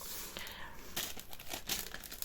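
A plastic zip bag being handled and opened, close-up crinkling and rustling in irregular bursts, fairly quiet with no talk.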